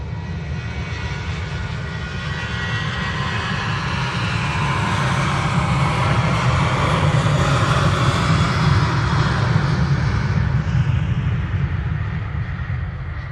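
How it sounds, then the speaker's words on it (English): A KLM Boeing 737 jet takes off at Manchester Airport, its engines roaring loud and steady, swelling in the middle and easing slightly toward the end with no talking over it. "KLM 737, now time to skip off"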